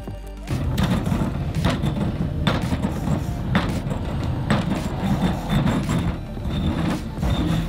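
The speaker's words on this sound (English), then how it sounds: "we only need to get our ammonium nitrate out of our cold packs and grind it to powdered form" Ammonium nitrate from cold packs being ground into fine powder, a close, loud continuous gritty scraping and rubbing with regular strokes roughly once a second throughout.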